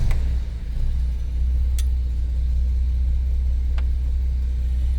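A 1948 Plymouth Special Deluxe sedan's engine idles smoothly and steadily after its push-button start, a close low rumble with a couple of faint clicks and no talk.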